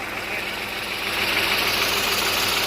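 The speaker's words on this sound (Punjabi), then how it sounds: "ਘੱਟੋ ਘੱਟ 4 ਘੰਟੇ ਹੋ ਗਏ ਟਰੈਕਟਰ ਚੱਲੀ ਜਾਂਦੇ ਨੂੰ" A tractor engine runs steadily nearby during a village flood, a continuous rumbling drone with a rhythmic throb, loud and unchanging, running for hours.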